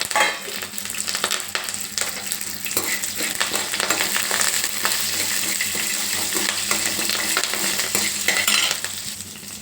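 Onions, green chillies and curry leaves sizzle steadily in hot oil with mustard seeds and lentils, with a spoon scraping and stirring the pan throughout at close range.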